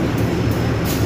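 Doho passenger train bound for Blitar, hauled by a CC201 diesel locomotive, rumbles past at close range as a loud, steady low roar with rhythmic wheel noise, heard briefly.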